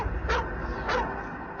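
Police cadaver dogs trained to detect human remains, giving a few sharp barks spaced apart at moderate distance over low background noise.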